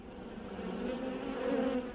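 Honeybees hum inside an indoor observation hive, a steady low buzzing that stays soft and continuous and swells slightly toward the end.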